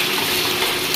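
Onions sizzle steadily in a hot pan after being salted, a continuous close frying hiss with faint stirring scrapes and no voices.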